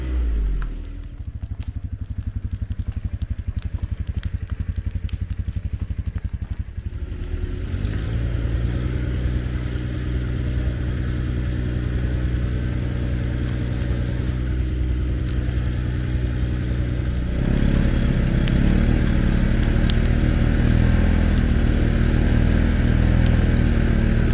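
John Deere 1025R compact tractor stuck on a hill while chained and strapped, its engine droning steadily near and loud as the tires spin, with revs rising in two distinct steps.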